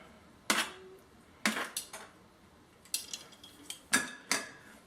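Metal utensils clink and scrape against a dish while an onion, balsamic vinegar and tomato mixture is spooned onto basil-topped bruschetta for an Italian panini, several sharp taps in uneven bursts, close and fairly quiet.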